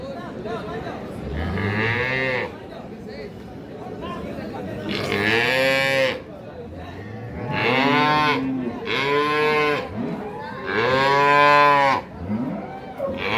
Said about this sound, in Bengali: আমরা এর পাশে একটা শাহিওয়াল সিন্ধি গাভী দেখছিলাম।